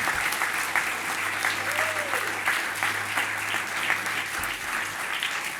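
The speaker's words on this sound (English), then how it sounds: "let's give this diverse cabinet a round of applause" A crowd at a 2023 inauguration ceremony applauds the new cabinet, steady sustained clapping throughout with a voice speaking under it.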